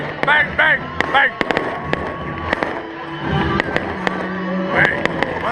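Fireworks at a school pep rally outdoors: a rapid volley of sharp bangs and crackling bursts, some whistling rises, loud and close, over crowd noise and voices talking and shouting.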